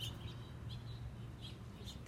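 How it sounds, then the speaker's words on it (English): Two small birds chirp in brief, faint, high tweets spaced across a low steady background hum. "2 little birds right there."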